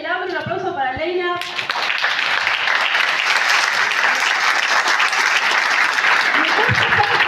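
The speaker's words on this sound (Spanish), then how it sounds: "Un aplauso para Leila." After a brief spoken opening, loud, sustained applause breaks out from an audience at a book presentation in La Matanza. The clapping is dense and steady, and another voice cuts in near the end.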